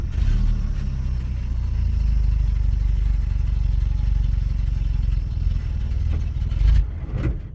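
An old off-grid truck engine cranks and runs roughly after a pump of gas, a loud steady low rumble with clattering that surges near the end before dropping off.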